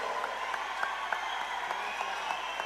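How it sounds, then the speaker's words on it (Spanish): A concert audience in Río Gallegos at a patriotic evening gala applauding after a performance, steady moderate clapping with a few sharper claps standing out, heard from a distance. "Fuerte el aplauso, Río Gallegos."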